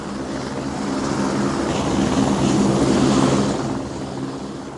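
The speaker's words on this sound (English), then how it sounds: "Amazing things, helicopters." Helicopter sound effect in a radio drama of Bradbury's I Sing the Body Electric, a steady whirring rotor drone that swells louder toward the middle and then fades slightly, with no voices.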